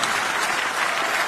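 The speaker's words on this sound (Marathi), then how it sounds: "ज्याला ज्याला बायको आहे त्यांनी टाळ्या वाजवा" Brief burst of audience applause, thick steady clapping from a crowd heard up close.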